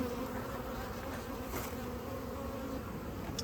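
Bees on a hive frame buzz steadily and densely up close, a continuous droning hum with no voices.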